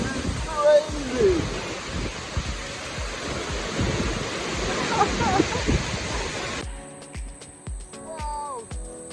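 Roaring Icelandic waterfall, a dense, steady wash of noise heard up close, with strong wind buffeting and people talking over it, before it cuts to a much quieter interior.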